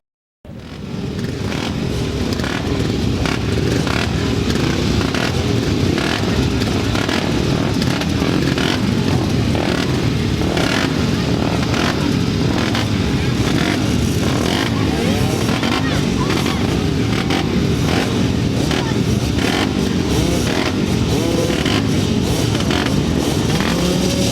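Several 250cc solo grasstrack motorcycles race together at a meeting, engines buzzing loud and continuous at high revs for the whole stretch, with a public-address commentator speaking over the noise.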